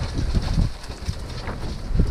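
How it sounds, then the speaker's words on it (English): Wind buffets the microphone in a continuous low rumble that swells and eases, with no voices. "It's really windy out right now."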